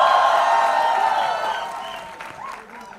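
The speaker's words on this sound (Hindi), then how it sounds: "इसके लिए ताली बजा दो एक बार यार।" An audience at the Tu Jhuthi Main Makkar trailer launch event applauds loudly, the clapping fading steadily over three seconds to a quieter murmur.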